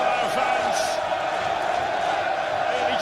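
Football crowd at Roots Hall during a Southend United versus Carlisle United match, a steady dense roar of cheering and noise held at an even level throughout, with a commentator's voice faintly over it.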